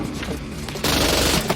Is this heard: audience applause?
no